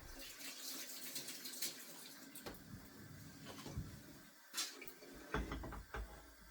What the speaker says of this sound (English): I'm going to add some more water in